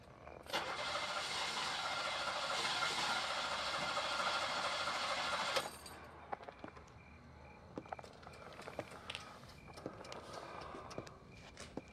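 A car engine cranking with trouble: a loud steady grinding churn for about five seconds that cuts off abruptly, followed by faint rattles and small knocks in a quiet space.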